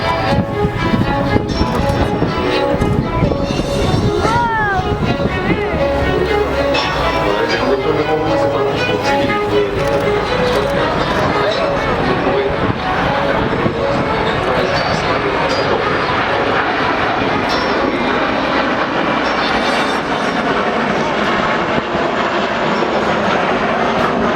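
Jet aircraft flying in formation take off at the Paris Air Show: a continuous loud, roaring engine rumble fills the whole stretch, with a commentator talking over it.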